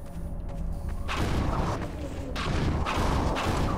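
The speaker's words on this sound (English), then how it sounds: "That was a big-ass explosion." A heavy explosion in Half-Life 2 erupts after a quieter stretch, with loud broadband booms and crashing rumble rolling on in several surges.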